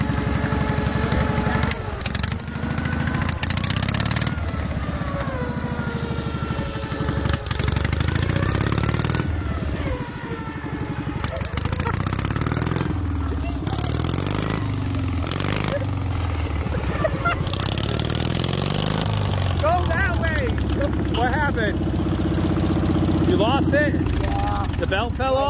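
A racing lawn mower's small engine runs and revs unevenly with rising and falling whines, mixed with frequent talking and honking sounds throughout.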